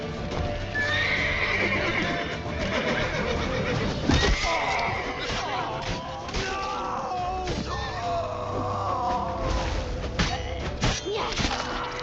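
A horse in The Witcher 3 video game neighs and whinnies loudly amid clip-clopping hooves, thuds and clashing action sounds, with a second neigh later, all close and busy.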